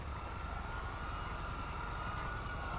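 In the video game GTA 5, a police car siren holds a steady tone throughout over a deep rumbling engine and road noise, loud and continuous with no voices.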